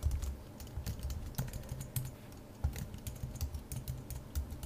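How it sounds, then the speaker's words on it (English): Steady clicking of a computer keyboard while CSS code is written, with irregular bursts of keystrokes and short pauses, close and fairly quiet with no talking. "Typing while talking and thinking"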